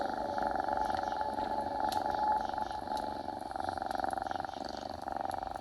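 A cat purrs close up in a steady, continuous rumbling drone that pulses gently with each breath and stays fairly loud throughout, with no talking over it.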